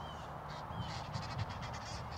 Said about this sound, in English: Those birds are having an argument.